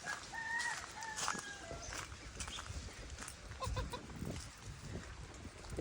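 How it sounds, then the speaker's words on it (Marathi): Desi free-range chickens on a poultry farm cluck and a rooster crows amid steady, fairly close barnyard hubbub, with no talking. "इकडे पण भरपूर अशा आपल्या कोंबड्या आहेत"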